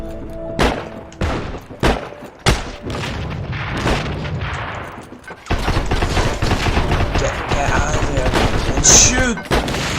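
Video game combat with gunfire and grenade explosions: several loud, sharp shots and booms ring out at first, then a dense, continuous barrage of rapid fire and blasts fills the rest, close and intense.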